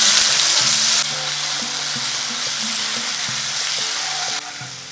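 Ginger paste frying in a pan with salt, stirred in place: a steady, loud broadband sizzle runs throughout, with low scraping stir strokes underneath, alone with no voices.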